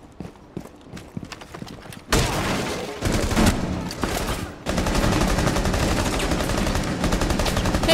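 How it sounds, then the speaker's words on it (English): Rapid bursts of automatic gunfire in the tactical shooter Rainbow Six Siege, fired at a player's shield, loud dense rattling volleys that begin after a quieter stretch of clicks and continue almost unbroken. "Shooting your shield."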